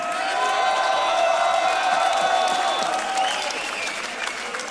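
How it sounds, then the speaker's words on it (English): Loud crowd applause and cheering at the Grand Beatbox Loopstation Battle 2017, with scattered whoops and whistles rising over continuous clapping that eases slightly toward the end. "One more round of applause."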